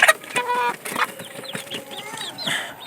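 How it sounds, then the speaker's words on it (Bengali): Chickens eating a homemade feed mixture, several birds clucking and murmuring close by in a steady, overlapping chatter with short higher calls. "এরকম কত সুন্দর খাচ্ছে আমাদের মুরগিগুলো।"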